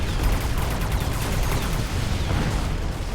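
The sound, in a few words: AA barrage missiles firing in Mechabellum video game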